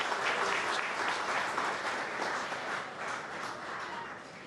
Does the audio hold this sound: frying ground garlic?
no